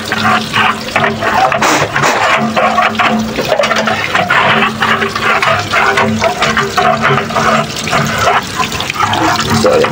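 Water draining from a water heater tank, a loud, continuous gushing and splashing flow with churning bubbly bursts throughout, no voices.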